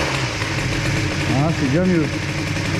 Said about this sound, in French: maintenant on va voir si on a un beu au coup de gaz ou si c'est one.